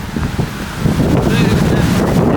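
Steady wind buffeting a microphone with low rumbling gusts in Victoria, Canada, a continuous roar that swells slightly louder partway through.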